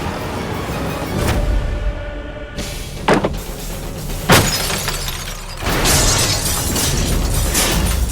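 Glass shatters with a sharp crash and scattering fragments amid a loud, busy dramatic soundtrack, followed by further impacts and a sustained noisy wash.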